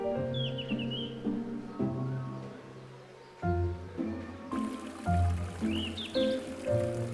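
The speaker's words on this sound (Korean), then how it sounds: "새소리와 맑은 물소리" Birds chirp and trill over a steady, clear trickling mountain stream at a Korean temple hermitage, with the song bursts coming and going against the constant flow of water.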